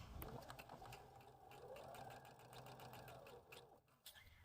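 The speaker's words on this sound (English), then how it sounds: "using a 1/4 inch seam allowance, I am going to stitch right down that side." A sewing machine runs steadily, stitching a quarter-inch seam down the side of a half-hexagon pillow piece, its rapid needle chatter continuous and close throughout.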